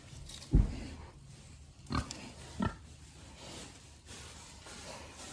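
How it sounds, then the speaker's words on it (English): Pigs nearby sniffing at a truck, making a few short grunts and snorts at irregular intervals over a low background murmur. "They're all sniffing it."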